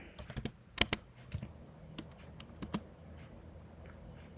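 Sparse, quiet keystrokes on a computer keyboard while HTML code is written, with irregular clicks in small clusters and pauses between them over a faint steady background hum.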